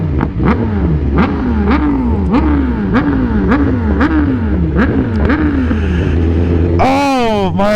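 A sport motorcycle in Miami traffic revs in quick repeated pulses, its exhaust popping and banging aggressively, then climbs into a sharp loud rising rev at the end.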